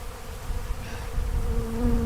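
Bees buzz close around an opened container, a steady droning hum that rises and wavers in pitch as individual insects fly nearer, with no voices.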